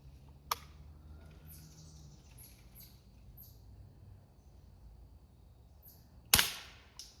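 A Ruger BB gun fires two sharp, loud cracks at a pumpkin, the first early and the second near the end with a short ringing tail, over a quiet outdoor background with faint bird calls.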